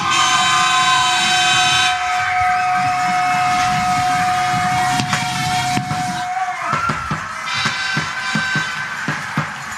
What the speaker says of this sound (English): The train coming out.